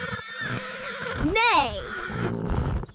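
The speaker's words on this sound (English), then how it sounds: "This is a horse, fast and strong." A horse whinnies once in a rising-then-falling neigh near the middle, heard close and clear, with a voice talking before and after it.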